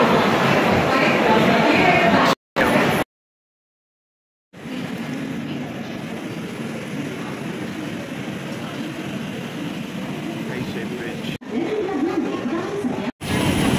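Mumbai–Howrah Nagpur Mail pulling out of a station, a steady broad rumble of the moving train with brief breaks in the sound.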